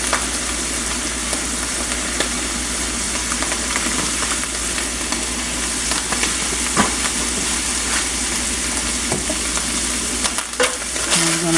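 Onion with cayenne pepper sizzling and frying in a pan while being stirred, a steady loud crackle with occasional scraping of the utensil, close by and with no talking.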